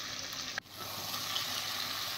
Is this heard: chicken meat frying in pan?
yes